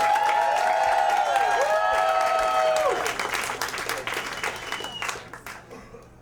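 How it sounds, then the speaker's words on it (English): Audience applause fills a storytelling-slam venue, loud and dense for about three seconds before thinning into scattered clapping that fades out, with a faint tone held in the background. "keep the applause going for Micaela Blei."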